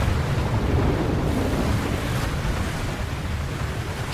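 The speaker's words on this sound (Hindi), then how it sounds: "यहाँ भी सुनामी" Steady, roaring rush of crashing tsunami waves and wind in the video game GTA 5, continuous and loud throughout with no voices.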